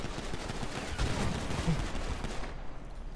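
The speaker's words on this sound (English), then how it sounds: "Shots fired, shots fired." Gunfire in GTA 5 roleplay, a rapid cluster of shots crackling over a busy rumbling background, moderately loud and close, with no talk over it.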